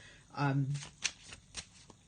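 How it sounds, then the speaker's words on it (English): Tarot cards are shuffled by hand in a few quick riffling bursts, close and crisp, with softer handling sounds between them. "So I'm just going to have a little shuffle and put this down for us and see what we've got from the tarot today."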